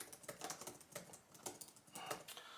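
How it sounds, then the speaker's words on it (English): Rapid clicky typing on the short-travel, wide keys of an MSI Sword 17 laptop keyboard, a dense, soft patter of keystrokes heard close and quiet, with no talking. "Doesn't have a lot of extensive travel. It has short travel, but it feels very clicky and the keys are wide."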